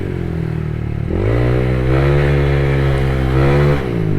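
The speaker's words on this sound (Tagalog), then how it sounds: "Grabe, ang lakas ng Honda Click na to mga par." Honda Click 125 scooter fitted with an RS8 pipe and head, its engine revving up sharply from idle, holding a loud buzzing rev, then dropping back, close by with no speech.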